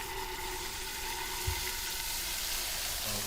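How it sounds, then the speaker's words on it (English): Liquid oxygen boils away on a warm magnet, giving a steady, faint crackling hiss like frying, with one soft thump partway through. "It disappears pretty quickly because the magnet's warm and it's boiling away really quickly"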